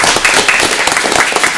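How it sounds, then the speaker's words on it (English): A room full of people at a school board meeting breaks into a dense round of applause, steady clapping throughout that welcomes a new board member. "if everyone can give me a round of applause for Dan."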